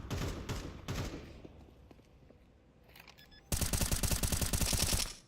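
Gunfire in Counter-Strike during an ESEA Advanced Europe esports match: a few sharp shots, a quieter pause with faint clicks, then a loud rapid burst of automatic fire that runs to the end.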